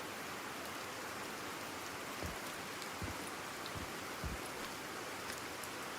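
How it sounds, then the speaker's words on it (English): Steady rain in a video game, a soft continuous hiss of falling water with a few faint low thuds, quiet and without voices. "Could just be the rain."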